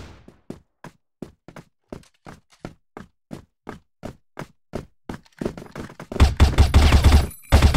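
Single rifle shots from an M4A1 Bandage in CrossFire Ghost Mode, fired one at a time in a slow, steady rhythm, followed by a louder, denser burst of game action toward the end.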